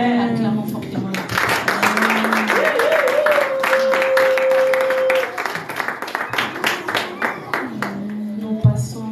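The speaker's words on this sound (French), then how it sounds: "Acclamons fortement." A church congregation claps loudly and rhythmically for several seconds, with a sustained sung or played tone and voices mixed in before the clapping thins out.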